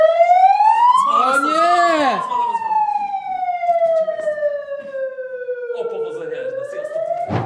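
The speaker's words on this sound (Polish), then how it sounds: "Strasznie słychać syrenę" A loud siren wails steadily, its pitch sliding up and down with strong harmonics, while a voice briefly exclaims over it early on.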